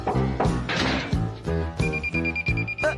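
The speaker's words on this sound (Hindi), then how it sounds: "टाइम लिमिट का अलार्म बजा।" A time-limit alarm in a cartoon rings in quick repeated electronic bell bursts. The alarm-clock ringing is loud and pulsing, with a steady high tone joining partway through, and no voices over it.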